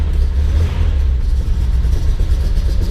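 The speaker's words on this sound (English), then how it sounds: "Starts up nice." A home-built Datsun 240Z engine running just after starting, with a loud, close, steady low rumble and a slight uneven throb, no talking.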